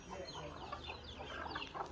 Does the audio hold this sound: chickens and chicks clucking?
yes